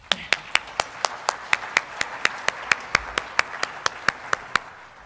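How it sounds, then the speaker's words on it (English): Applause at a government briefing comes as evenly spaced, rhythmic claps, about twenty sharp beats in a steady tempo, fairly close and loud. "So I'll say a round of applause for both of you."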